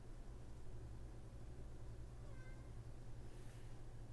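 A male cat meows faintly from nearby in a quiet room, a brief thin call standing out over steady low hum and background noise.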